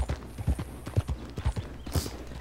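Horse hooves gallop in Red Dead Redemption, a steady, close clip-clop rhythm of repeated thuds with a brief faint whinny-like swell near the end, no talk over it.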